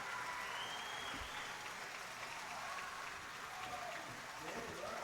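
A baseball crowd at a playoff game between the Bristol Blues and the North Shore Navigators applauds a defensive play, a steady wash of distant clapping and cheering that lasts throughout.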